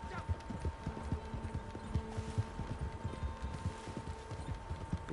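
Horse hooves clip-clop steadily in Red Dead Redemption, a brisk rhythmic trot of many quick, moderately loud hoofbeats continuing throughout, with faint talking underneath.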